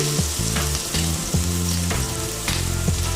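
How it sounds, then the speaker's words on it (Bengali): Chopped onion goes into hot white oil in a wok with garlic for boat potatoes, giving a loud, steady sizzle and crackle with a few stirring scrapes and no talk. "এবার আমি এর মধ্যে দিয়ে দিচ্ছি একে একে পেঁয়াজ কুচি"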